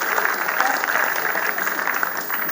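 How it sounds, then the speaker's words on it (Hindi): An audience at a Teacher's Day comic poetry gathering claps steadily, a dense continuous round of applause with faint voices mixed in. "ताली बजाओ तो जरा मस्ती से बजाइए"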